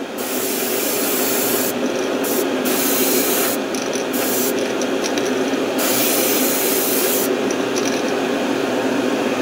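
An airbrush sprays paint coats onto a crankbait fishing lure, a continuous hissing spray broken into several short bursts with brief pauses, close and steady with no voices.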